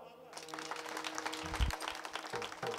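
An audience at a Warkari kirtan led by a kirtankar breaks into brisk clapping that starts suddenly and holds as a dense, close patter, with a voice underneath.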